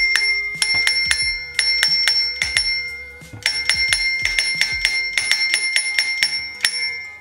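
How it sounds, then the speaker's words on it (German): A bicycle bell rings repeatedly in quick bursts of bright metallic dings, close and loud, with short pauses between the clusters of rings. "Klingel."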